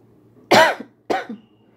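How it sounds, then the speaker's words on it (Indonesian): Two separate coughs from one person indoors, the first harsh and fuller, the second shorter and softer about half a second later, close and loud against a quiet background. "Aku lagi batuk."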